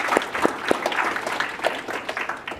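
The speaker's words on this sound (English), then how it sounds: "Give them a round of applause, please" A conference audience at a security talk applauds steadily throughout, a dense patter of many hands at moderate distance, with scattered louder claps standing out.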